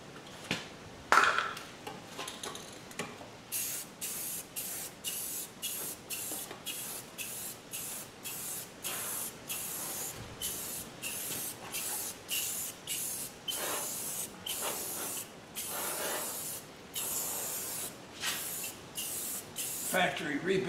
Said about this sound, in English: I am going to give that a quick. Paint job. Good old Rust-Oleum.